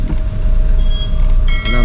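A shared taxi ride through Shillong traffic toward Police Bazaar gives a continuous low engine and road rumble inside the car, with faint clicks and rattles near the start and end.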